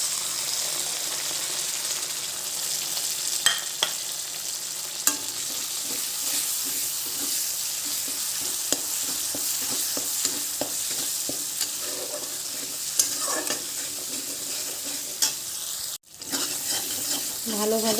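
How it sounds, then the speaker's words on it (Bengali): Poppy seed and mustard paste being sautéed in a pan for a thin hilsa fish curry: steady sizzle with repeated spatula scrapes and stirring clicks, close up, with a brief drop near the end. "ভালোভাবে কষিয়ে নেব।"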